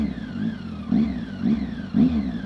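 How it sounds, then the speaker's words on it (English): Triumph Speed Triple ABS super naked motorcycle engine revving on a ride, with three rhythmic surges of exhaust note rising over a steady low rumble, close and fairly loud. "I fucking love the noise of this bike"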